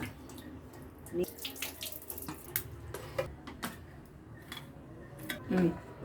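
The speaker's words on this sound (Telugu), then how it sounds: "2 సార్లు బాగా కడిగి నీళ్ళల్లో గట్టిగా పిండాలా" Water runs and splashes in uneven bursts as minced meat is rinsed and squeezed under a tap, with a few louder sloshes near the end.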